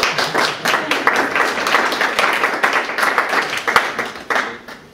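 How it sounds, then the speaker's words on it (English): A group of people clapping close by for the experiential learners, a dense burst of applause that rises quickly and fades toward the end. "Round of applause for our experiential learners."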